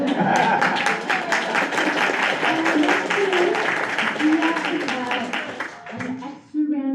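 Audience applause at a community reading event, a dense, steady wash of many hands clapping that carries on for several seconds, with a few voices and cheers mixed in before it tapers off near the end.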